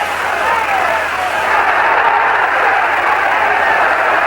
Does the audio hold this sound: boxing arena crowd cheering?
yes